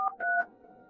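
Three quick telephone dialing tones from a phone keypad beep in rapid succession, crisp and close, then fade out with no voices.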